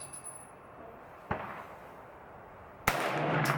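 Two sharp, loud gunshots from a Ruger PC Carbine on an outdoor range at about 25 yards, spaced about a second and a half apart, each followed by a short ringing tail.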